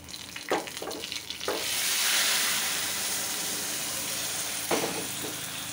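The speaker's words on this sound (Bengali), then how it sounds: "বাগার দিয়ে নিচ্ছি।" Dal is tempered with onion poured into hot oil, a few clinks followed by a sudden loud sizzle that settles into a steady close hiss.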